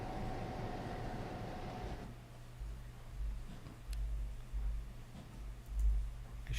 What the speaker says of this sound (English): Train in the background there